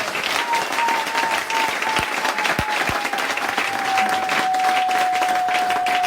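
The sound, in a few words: audience applauding loudly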